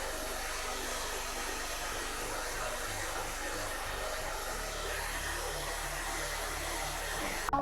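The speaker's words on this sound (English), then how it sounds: "I blow dry it the opposite way" A hair dryer blows steadily on a short pixie cut, a constant loud whooshing hiss with a low motor hum that runs unbroken and close to the microphone.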